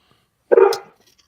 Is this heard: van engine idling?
no